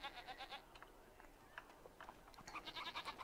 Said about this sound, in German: Da meckert eine Ziege.